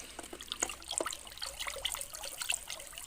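Fertilizer being stirred into a bucket holding 10 litres of water, making soft sloshing and trickling with scattered small splashes and drips that are close and fairly quiet, with no talk.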